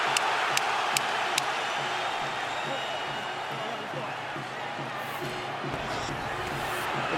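A boxing arena crowd roars steadily through the Mayweather vs. Hatton fight, a dense, continuous wash of cheering with a few sharp peaks, heard under a commentator's voice.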